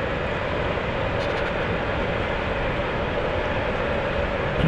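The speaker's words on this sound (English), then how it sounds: "Here comes the train." A train rolls past beside the Bolstad River, a steady, loud, continuous rumble and rush that holds its level throughout, with no speech over it.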